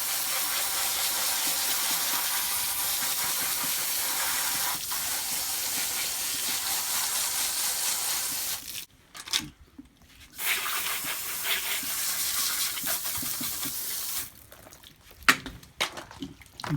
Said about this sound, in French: Nettoyage au jet d'eau.